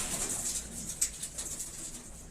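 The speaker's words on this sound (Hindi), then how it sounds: "ये वाइट रेसिंग पिजन है" White racing pigeon, an imported white homer, cooing softly and fairly far off, its low murmurs half lost under steady hiss and faint high chirps.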